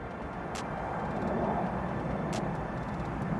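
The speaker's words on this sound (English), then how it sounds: "You can hear my private jet coming into land now" A TUI passenger jet comes in to land, a steady, loud, broad roar that holds evenly throughout with no pauses.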